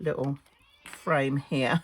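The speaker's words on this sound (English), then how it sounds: "he's meowing his head off" A cat meows loudly and repeatedly indoors, three drawn-out calls in under two seconds, while a person speaks briefly between them.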